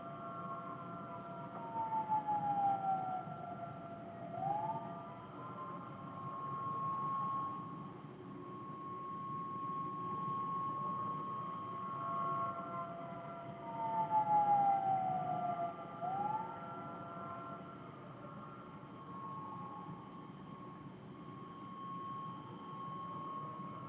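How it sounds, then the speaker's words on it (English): A high-pitched emergency siren played back through a computer speaker, its tone sweeping up and down in repeated wails over a steady low hum, with no talking. "There's a second siren. It's the high-pitched one."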